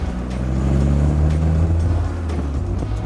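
Peugeot 205 GTI engine droning steadily from inside the car on a mountain road in northern Thailand, a continuous low hum with faint road rumble and no break.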